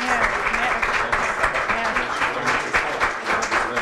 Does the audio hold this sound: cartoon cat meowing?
no